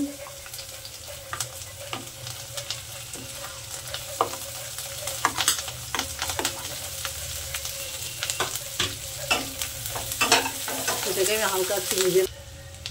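Chopped ginger and chilli fry in hot oil with a constant crackling sizzle, broken by frequent sharp clicks and scrapes of a spoon stirring the pan close by.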